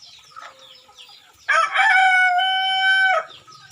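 Native chickens at feeding time, a rooster crowing loudly and close for a couple of seconds with soft clucking from the flock before and after, no talk.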